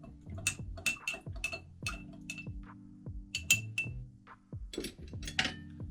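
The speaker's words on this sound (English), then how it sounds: "I'm stirring now." A spoon stirs a cannabis-infused margarita with lime juice in a glass, sending out a quick run of sharp, bright clinks and rattles close by, in irregular bursts with short pauses.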